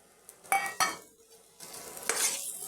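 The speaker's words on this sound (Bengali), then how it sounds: "ভেজে রাখা করলাগুলো দিয়ে দিচ্ছি" Fried bitter gourd pieces being stirred in a pan with a metal utensil, giving a few sharp scrapes and clinks over a faint sizzle, close and alone.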